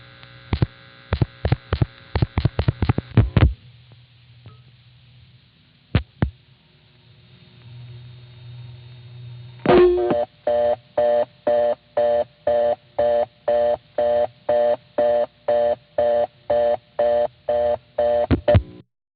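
In North Salem, New York, a 1974 Bell System step-by-step telephone office plays crossbar No. 5 style tones: a burst of rapid clicks, then a low steady hum, then a loud buzzing tone pulsing in an even, repeated rhythm.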